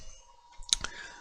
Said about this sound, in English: I'm just left clicking here.